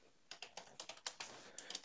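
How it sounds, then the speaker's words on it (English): Typing on a computer keyboard while entering a password: a quick run of about a dozen distinct, crisp key clicks, close and fairly quiet, with no speech. "Now as you're typing your password"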